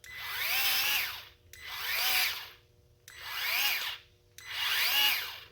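Four bursts of whirring motor from a Milwaukee M12 cordless grease gun pumping grease, each a second or so long with short pauses between, close by.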